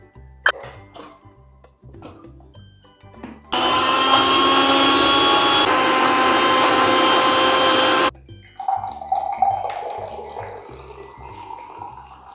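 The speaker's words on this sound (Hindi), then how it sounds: "और अब हम निकालेंगे कोकोनट मिल्क।" A Sujata mixer grinder fitted with a coconut extractor jar runs at full power for about four seconds, a loud steady whirring roar that cuts off abruptly, framed by quieter handling clatter before and after.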